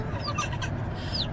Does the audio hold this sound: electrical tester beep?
no